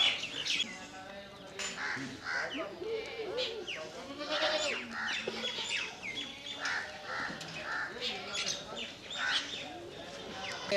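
Goats of Sirohi, Jamunapari and Barbari breeds on a breeding farm bleating repeatedly, close and fairly loud, with birds calling and people talking in the background.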